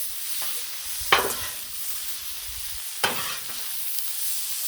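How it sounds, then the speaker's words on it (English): Green beans sizzling on a griddle with Italian seasoning, a steady hiss of frying broken by two distinct scraping stirs of a spatula, close and clear with no talking. "Give these a little stir."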